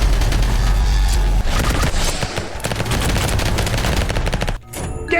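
Launcher weapon firing in the Vampire Hunters video game: a loud, dense barrage of rapid gunfire and booms that runs nearly continuously for about four and a half seconds, then a brief lull before more shots.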